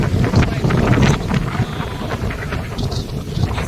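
Sea waves break at Dahanu beach during high tide, a loud, continuous rushing wash of surf with gusty wind buffeting the microphone.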